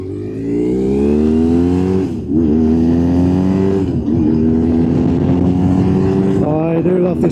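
A motorcycle engine accelerates hard on a dual carriageway, a loud, close, droning roar rising in pitch through gear changes, with brief dips between gears and steady wind noise throughout.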